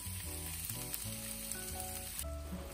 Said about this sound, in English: Add bean sprout and garlic chive into the pan.